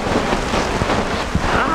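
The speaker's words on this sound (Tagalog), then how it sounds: "So mga nilalang, biglang umulan na malakas." Heavy rain pours steadily on a tent at a lakeside campsite, a dense, loud continuous hiss with wind buffeting the microphone.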